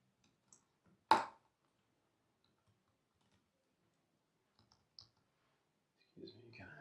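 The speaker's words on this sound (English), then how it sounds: "you kind of hit the keyboard too hard there" One sharp, loud keyboard strike stands out near the start, followed by a few faint taps and then quiet, with no talking over it.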